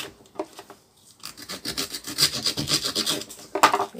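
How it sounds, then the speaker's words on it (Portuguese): Hard homemade soap, made in a milk carton, pressed and scraped by hand, giving dry rasping and rubbing strokes that build from sparse scuffs into a steady, fairly close scraping run with no talk. "Eu tô apertando aqui o sabão."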